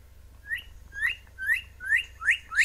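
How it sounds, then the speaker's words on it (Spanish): Small bird in a video game giving a series of six rising whistled chirps, evenly spaced about half a second apart, clear and close over a low background hum. "Ese pinche pajarito que se atraviesa"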